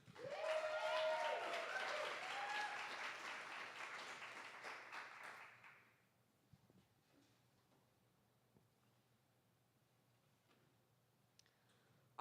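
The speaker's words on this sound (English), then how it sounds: "Can I get a round of applause for Star Jewel," At a poetry slam, the audience applauds a poet with a sustained round of clapping and a few cheers for about six seconds, then it falls off sharply into near silence with scattered faint clicks.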